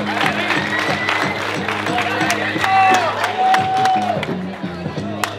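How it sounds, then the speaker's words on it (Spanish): A crowd at a freestyle rap battle quarterfinal applauds and cheers over a thumping repeating beat, with scattered whoops and claps rising and falling amid background hubbub and voices. "¡Fuerte el aplauso!"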